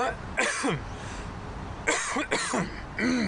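A person coughs in separate bursts, a pair of harsh coughs early, then two more close together near the end, fairly close and loud with no talking.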